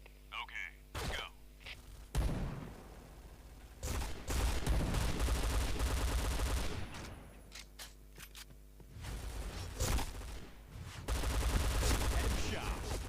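Gunfire rattles through a shooter video game, Point Blank, in repeated loud bursts of rapid shots separated by brief lulls, close and punchy, with game announcer-style callouts mixed in.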